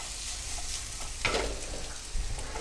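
Spring onions, capsicum, diced onion and chili sizzle and fry in a pan while being tossed, with a steady crackle and a couple of louder scraping shuffles as the pan moves.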